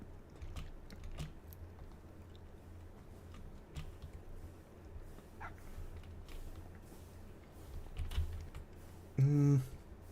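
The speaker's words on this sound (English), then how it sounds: "Since it is really quiet, I will let Mallow just kind of follow me around and bark" A dog in a quiet video game gives one short, fairly loud bark near the end, heard over steady computer keyboard typing and clicks with a low background hum.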